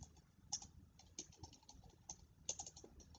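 Typing on a computer keyboard, with quick irregular key taps and a few sharper clicks, close but soft over faint room noise, no talking.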